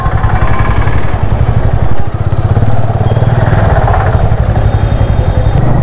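A motorcycle cruising along the Mangaon to Mumbai highway, its engine a loud, close, steady throbbing drone mixed with wind rush for the whole stretch.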